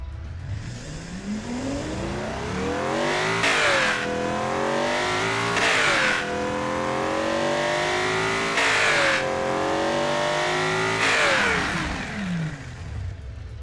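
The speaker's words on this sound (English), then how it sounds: "let's hear this beast with throttle per cylinder" A tuned 302-horsepower engine fitted with individual throttle bodies and mechanical fuel injection revs hard four times, each blip rising sharply to a high wail and then falling back to a steady idle, loud and close, with no talking.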